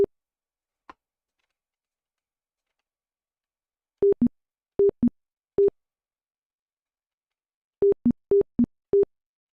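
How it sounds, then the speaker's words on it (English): Short electronic bleeps from a programmed invaders-style video game, fired in quick clusters of two to four after a lone early click, with gaps between bursts and no talk. "Is our bullet sound now."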